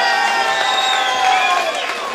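Wedding guests at a reception in Letanovce cheering and whooping in a crowd, steady and fairly loud for the whole stretch, with overlapping voices but little distinct clapping.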